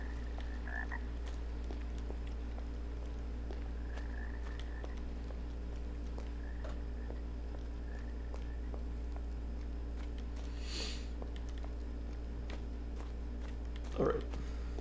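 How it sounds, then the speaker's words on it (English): Frog croaks from the Arx Fatalis video game sound out faintly as a few scattered calls over a steady low ambient hum, ending with a slightly louder croak near the close. "I think there's an actual frog in there."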